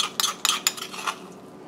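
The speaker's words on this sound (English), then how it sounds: "So Molly is mixing her curry paste here" Several sharp clinks and scrapes of a utensil against a bowl while mixing curry paste of curry powder, cumin, garam masala, crushed garlic and a little water, a quick irregular burst that fades out near the end.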